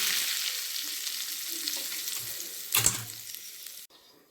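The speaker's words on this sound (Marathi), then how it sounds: "त्यावर चरचरीत अशी फोडणी द्यायची" Hot oil tempering spitting and crackling in a steady hiss over a cucumber salad, with a brief louder burst of sizzle before it suddenly cuts off.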